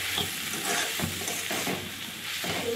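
Chowmein with fried onion and potato, seasoning added, stirred in a hot oiled pan: steady sizzling with repeated scraping strokes of the spatula, close and continuous.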